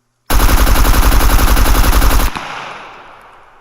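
Loud, close full-auto burst from an Mk18 rifle in the survival game SCUM, roughly two seconds of rapid evenly spaced shots, then a fading echo tail.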